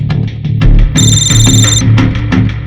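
A telephone in a police station rings once in a steady electronic burst of about a second, clear and close over low background room noise and clatter.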